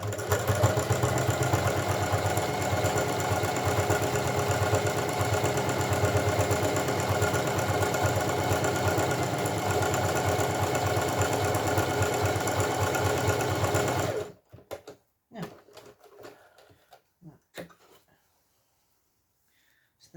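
A sewing machine runs a long, steady top stitch on a zipped fabric pouch, a close continuous mechanical whir lasting about fourteen seconds before stopping, followed by a few faint handling clicks.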